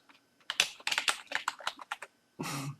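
Close keyboard typing: a quick burst of clicky keystrokes in an uneven rhythm, ending with a short, louder rustling clack.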